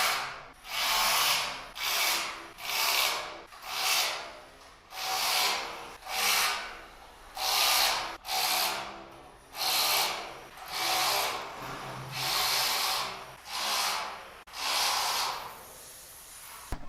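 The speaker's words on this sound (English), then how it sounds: "put screws in every single one of these holes" A power driver sends screws one after another into the holes of a 1/10 scale crawler chassis: about a dozen whirring bursts, each around a second long, separated by short pauses, close and clear with no speech.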